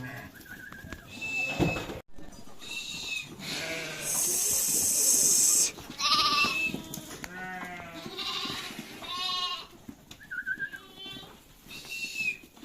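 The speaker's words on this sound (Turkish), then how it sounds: "Koyunlar mera gidecek. Kuzular burada kalacak arkadaşlar." Sakız crossbred ewes and their lambs bleat on a sheep-fattening farm, with many overlapping calls of varied pitch, some high and thin, others deeper and drawn out, rising and falling close by.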